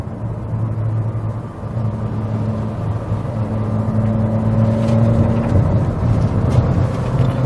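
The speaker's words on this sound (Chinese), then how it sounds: "当全力踩下油门的时候，" A Suzuki Vitara engine pulls hard under heavy throttle in Sport mode, its drone climbing steadily in pitch and loudness as the car accelerates, heard from inside the cabin with faint road noise and no talking.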